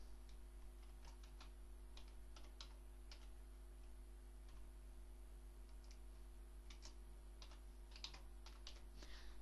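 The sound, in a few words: typing a name on a computer keyboard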